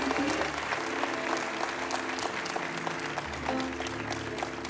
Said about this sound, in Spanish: you wouldn't clap like this